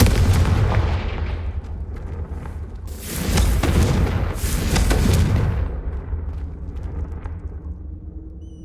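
Booming blasts from the Confringo blasting curse in the video game Hogwarts Legacy, a series of heavy explosions that swell mid-clip and then decay into a fading rumble.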